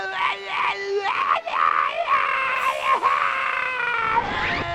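Taz, the Tasmanian Devil, screams drawn out and cartoonish while hurtling through space in the PS2 game Taz: Wanted. The wavering, loud yell carries on for several seconds without a break.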